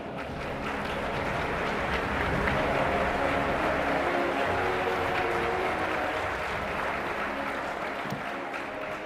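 An auditorium audience at the International Astronautical Congress in Baku applauds its awardees, producing dense, sustained clapping that fills the room at an even volume.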